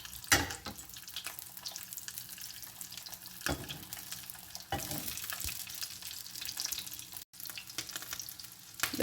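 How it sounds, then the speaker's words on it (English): Chilies frying in a pan for chile rellenos, a soft continuous sizzle with a few sharper clatters and bursts as they are turned, moderately quiet and close, no talk. "to continue to do the same thing with all the chilies. And let them fry."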